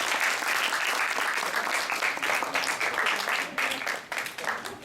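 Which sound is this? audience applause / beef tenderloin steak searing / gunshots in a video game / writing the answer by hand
audience applause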